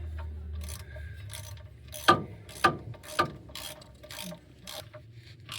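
A hand ratchet clicks in short bursts while tightening transmission pan bolts on a 1997 Ford F250 HD, with a few louder metallic clanks in between, close and fairly quiet.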